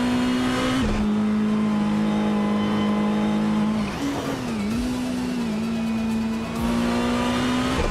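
A 1985 Ferrari 288 GTO race car drives at speed in a race, its engine holding a loud, steady high drone with brief dips and shifts in pitch as it changes gear, close and continuous with no talking.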